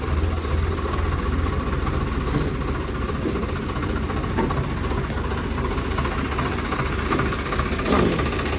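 A tractor engine runs at a steady idle during an RPM check on a straw reaper machine, with a continuous low, even drone and no talking.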